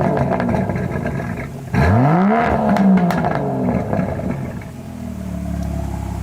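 An Aston Martin DBS Superleggera engine fires up with a sharp rising whir, then settles into a loud, gurgly idle and rev burble close by, with no one talking.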